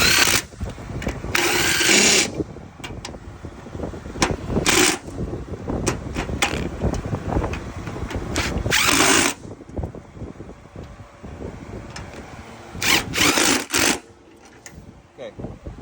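A power drill whirs in several short, loud bursts while tightening the blade bolts on a Husqvarna mower deck, with someone talking between and over the bursts.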